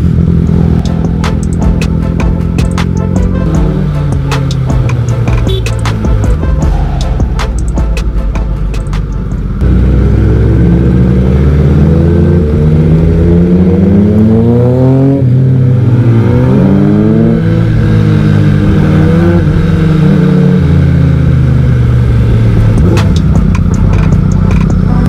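A loud Yamaha sport motorcycle engine revs hard and close, rising and falling in pitch through repeated throttle blips, then sweeping climbs as it accelerates.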